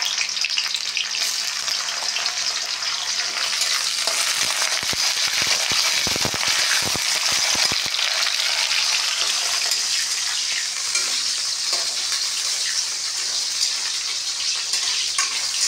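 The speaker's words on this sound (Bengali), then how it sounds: "ফুলকপিটা আগে দেবো তেলে।" Cauliflower pieces frying in hot oil for a masala-filled capsicum dish, giving a steady, loud, close sizzle throughout, with a burst of sharp crackles and pops in the middle as the pieces settle in the pan.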